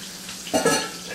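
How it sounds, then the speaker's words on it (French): Chicken pieces go into hot oil for General Tao chicken, setting off a sudden burst of bubbling sizzle over a quiet background hiss, loud at first and then settling into a softer crackle. "quand l'huile est prête, on va faire cuire le poulet."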